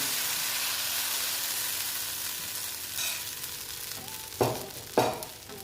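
Chitoi pitha rice batter hits a hot greased pan, a soft frying hiss followed by two short bursts of sizzle near the end, close and fairly quiet.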